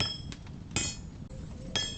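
Several sharp metallic strikes ring out at irregular intervals as a metal sword guard bar is hammered, each blow a bright clink over a low background.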